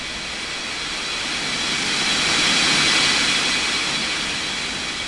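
Jet airliner on approach to Springbrook International Airport in the Unmatched Air Traffic Control video game, a steady broadband roar that swells toward the middle and then eases off, with no voices over it.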